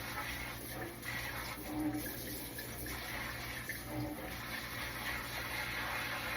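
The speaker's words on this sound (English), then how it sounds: "Let's rinse the spinach off." Water from a faucet sprayer rinses spinach in a bowl at a kitchen sink, a steady hissing spray running continuously at moderate level with slight shifts as the greens are moved.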